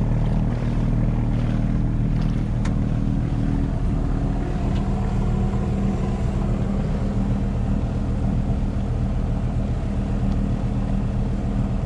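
A boat's engine drones steadily while the boat motors along at about 5.5 knots, a loud, continuous low rumble with no breaks and no talk over it.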